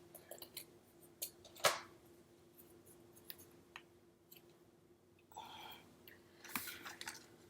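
Scissors cutting paper strips in half in a quiet room, with a few soft snips and crisp paper rustles scattered unevenly across the clip, including a sharper cut early and a longer rustle later.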